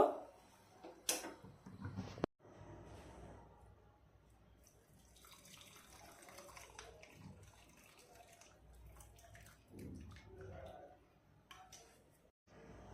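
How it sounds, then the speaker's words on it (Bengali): Homemade masala tea being strained from the pot into a bowl in a home kitchen, heard as a soft liquid pour and trickle with light clinks of utensils, moderately close and fairly quiet. "এখন ছেঁকে নিব চাগুলো একটা বাটিতে।"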